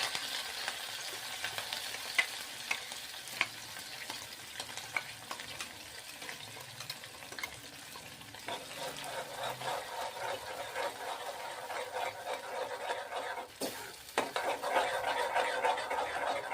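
Homemade paste frying in oil in a pan while being stirred and mixed, a soft continuous sizzle with scattered scraping clicks from the spoon, fairly quiet and close, no talking.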